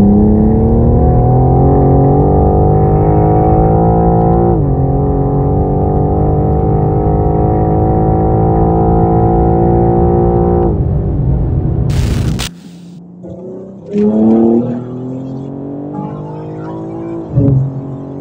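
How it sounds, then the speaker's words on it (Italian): A BMW M4 G82 Competition with a modified exhaust accelerates hard in a 100-200 km/h run, its engine droning loud and steady with upward-sweeping pitch through gear changes before lifting off into quieter coasting noise. "Facciamo un test del 100-200, vediamo come si comporta l'M4 da originale e dopo le modifiche del prof."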